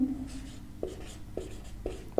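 Chalk or marker writing on a board while atomic weights of elements are written out in a chemistry class: four short, quiet tapping strokes at a steady pace in a hushed room.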